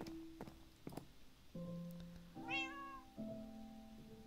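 A house cat gives one clear rising meow midway, close and moderately loud, between bursts of steady electronic tones and a few soft knocks, with no talking.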